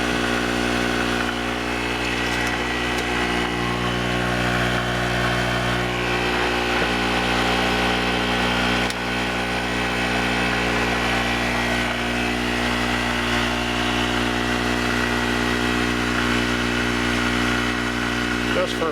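A gasoline generator runs on half choke while charging a 48-volt LiFePO4 battery system, giving a steady, loud engine drone with a constant pitch that continues without a break from start to finish.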